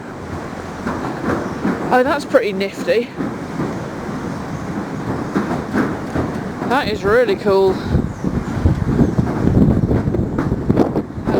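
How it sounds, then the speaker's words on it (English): The Southend pier train rumbles past with squealing wheels, under wind noise, while a person speaks over it. "Oh, that's the train. The pier train."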